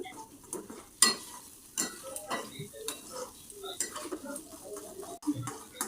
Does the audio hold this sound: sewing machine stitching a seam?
no